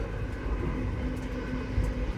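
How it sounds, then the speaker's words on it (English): A train rolls steadily along the tracks in a Polar Express Christmas journey setting, a continuous low rumble with a faint hum, moderately loud and unbroken, no voices. "The train will take you home, the tracks will guide you"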